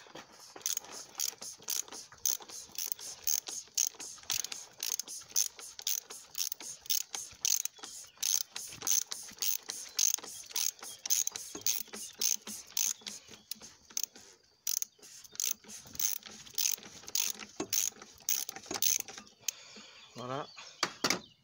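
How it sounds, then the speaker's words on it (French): A ratchet fitted with an extension and socket works a fastener loose on a BMW 330d E46, giving rapid, close, quiet clicking in repeated back-and-forth bursts with short pauses between strokes. "le mieux, c'est un cliquet, rallonge et une douille. Voilà. Donc, maintenant, je dévisse."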